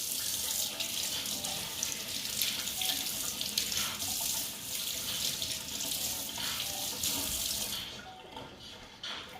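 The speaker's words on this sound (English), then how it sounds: "Rinsing." Tap water runs steadily into a sink while food is rinsed during stir-fry prep, a continuous splashing hiss at low volume that thins out near the end.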